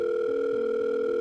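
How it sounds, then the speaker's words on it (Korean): A telephone ringback tone sounds while a call is being placed, a steady, loud electronic hum held without a break, with no voices, used as a sound effect in an audio drama. "케이는 재빨리 S에게 전화를 걸어본다"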